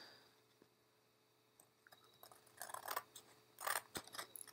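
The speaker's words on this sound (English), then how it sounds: "So now I'm going to cut out my image." Scissors cutting out a paper image: near silence, then a handful of quiet, close snips and paper rustles toward the end.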